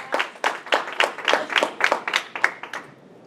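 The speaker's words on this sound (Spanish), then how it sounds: "Dale ese fuerte aplauso al que todo lo puede." Applause in church: a small congregation claps in a quick, fairly loud rhythm of distinct, near claps for about three seconds before it trails off.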